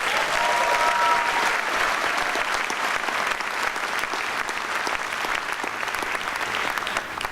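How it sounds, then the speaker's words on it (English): A graduation commencement audience claps steadily and loudly throughout, a dense wash of applause that fades only slightly toward the end, with no voices breaking through. "And I think that in and of itself deserves one more big round of applause."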